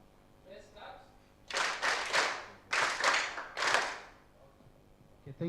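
An audience at an artificial intelligence community meetup claps in unison, three loud bursts of clapping in a steady rhythm after a quiet start, with faint talk before and a soft tap at the end.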